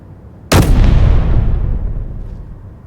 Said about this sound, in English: So, we also have our fixed assault cannon,